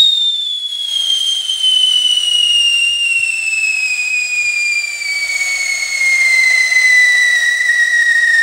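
A single long, clear whistle tone held steadily throughout, slowly gliding downward in pitch, loud and close with no other sounds.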